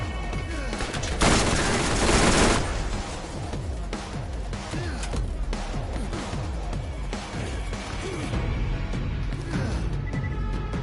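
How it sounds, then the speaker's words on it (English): Rapid gunfire in the video game Borderlands, a dense unbroken stream of shots with a louder burst early on, continuing steadily throughout. "Look at that fire rate"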